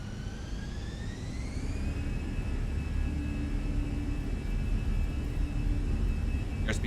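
Jet airliner engines spool up for takeoff from New York JFK in a flight simulator game, a steady loud roar with rising whine tones that climb and then hold level throughout.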